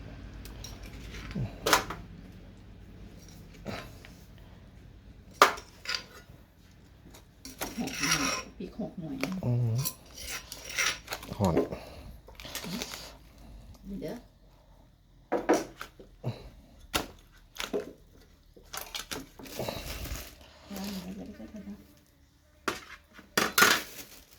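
Knife chopping boiled chicken on a cutting board with irregular clacks and knocks, some dish clinks, and someone talking now and then.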